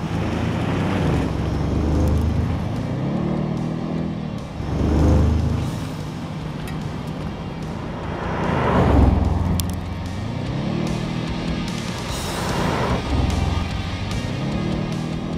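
An Audi RS 6 Avant engine rises and falls in repeated surges on the move, the revs climbing and dropping through gear changes amid steady wind and road roar, with no talk.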